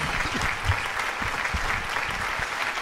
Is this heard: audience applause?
yes